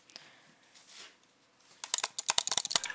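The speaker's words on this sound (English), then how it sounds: "Can you hear my keyboard?" Keys on a PC keyboard clatter during a Rainbow Six game session, faint scattered taps at first, then a dense, loud burst of rapid clicks near the microphone.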